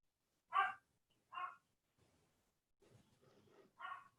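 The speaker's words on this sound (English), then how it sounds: "The dog's barking." Dog barking, sharp single barks spaced out, two early and one near the end, with faint murmuring voices in between, heard at a distance through a meeting call.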